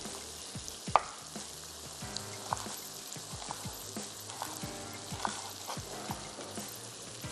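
Mutton pieces with spices and ginger frying in a pot, a continuous crackling sizzle with scattered pops and occasional stirring, close and moderately quiet, no talk.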